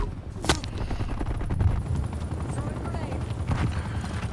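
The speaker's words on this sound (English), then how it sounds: "Where is this helicopter?" A helicopter in the video game Call of Duty: Black Ops Cold War thrums steadily with rotor chop, mixed with sharp gunfire bursts and a player talking over the action.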